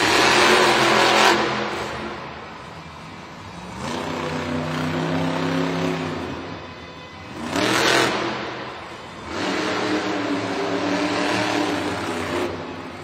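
El Toro Loco and other monster truck engines rev hard in a JCB racing run at an arena event, loud roaring bursts that swell and drop in waves, close and without talk.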